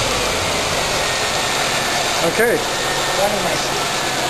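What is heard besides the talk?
Lincoln Continental engine starting and idling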